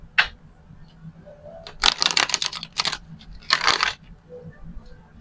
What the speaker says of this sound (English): I'm going to do 4 shuffles to clarify the Page of Pentacles.